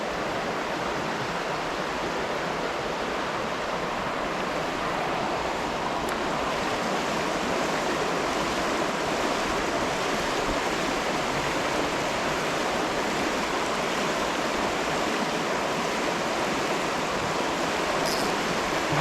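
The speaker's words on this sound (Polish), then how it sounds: "Ale tak krótki stan wody, że stoję na środku rzeki." A shallow river flows steadily around an angler wading mid-stream, giving a loud, close, constant rushing and gurgling of water with no talk.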